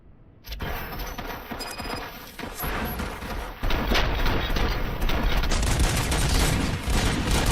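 Sustained gunfire in the first-person shooter RoboCop: Rogue City, dense overlapping shots in a loud fusillade that grows heavier partway through, with a faint voice briefly under it.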